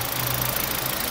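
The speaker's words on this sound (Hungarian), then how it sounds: "így csendesen ketyerészik benne ez a változó szelepezérzésű 16 szelepes motor" A Kia Ceed 1.4 variable-valve-timing 16-valve petrol engine with about 62,000 km on it idles under an open hood, ticking softly and evenly with a low steady hum. It is close and quiet.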